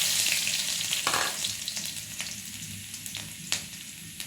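Mustard seeds and garlic cloves fry in hot oil, a bright continuous sizzle with a few sharp pops and scrapes, close up and fading slightly over a few seconds, no voices.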